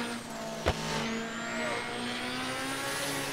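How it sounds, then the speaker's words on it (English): Honda Civic tuned to 4300 hp accelerating at full throttle in a driving game through traffic, a loud sustained engine roar with rising pitch and a brief sharp hit near the start. "once I hit full throttle, you can see it. It just starts taking off."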